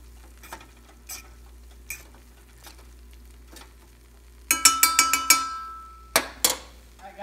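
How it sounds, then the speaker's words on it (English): Metal utensil stirring and scraping instant noodles with eggs in a pan, soft intermittent taps and scrapes at first, then a quick burst of sharp clanking strikes near the end, close and alone. "Now I'm gonna stir this up"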